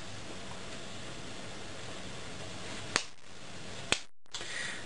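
A young child claps hands twice, two sharp, close smacks about a second apart over a steady background hiss.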